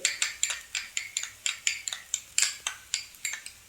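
Spoon beating sour yogurt in a bowl: a steady series of about fifteen crisp metallic clinks, roughly four per second, close and bright with no talking.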